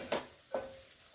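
Chopped onions sautéing in a pan for a gram flour kodhimbir zunka, with two brief bursts of stirring and sizzle over a faint steady background, no voices.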